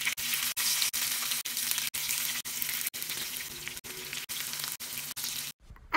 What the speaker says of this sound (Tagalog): kasalukuyan ko na nga pong piniprito yung tokwa na gagamitin nating sangkap sa ating gagawing ulam